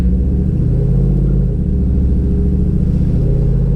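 A cammed Chevrolet Silverado pickup drives in normal traffic in drive, its engine giving a loud, steady low rumble with a choppy, lopey pulse from the cam, heard from inside the cab without voices.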